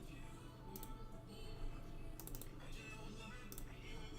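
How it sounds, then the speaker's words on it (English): Several bursts of key clicks from an Apple Magic Keyboard during typing, clustered near 0.8, 2.3 and 3.6 seconds, heard over a steady low hum with faint murmur in the background. "Why is my magic keys making noise?"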